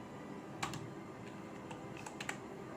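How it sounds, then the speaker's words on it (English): Quiet keystrokes on a computer keyboard as an employee number is entered into a form field: a handful of soft, irregular clicks spread over a few seconds, faint against a low background hum. "so I will type here employee number"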